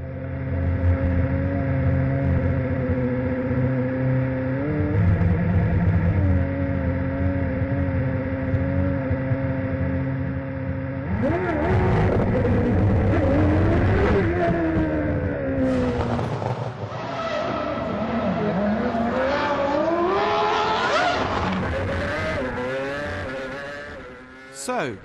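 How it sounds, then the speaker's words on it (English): A Williams Formula One car drives on Moscow city streets, its loud, high-pitched engine screaming and shifting pitch as it accelerates and brakes, with tire squeal and skidding in the second half. "as Nico Rosberg drove out onto the Moscow streets and into the history books"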